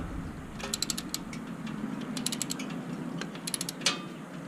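A ratchet wrench loosening the oil drain plug on a Harley-Davidson touring motorcycle gives three quick bursts of sharp pawl clicking, close and crisp over a faint background hum.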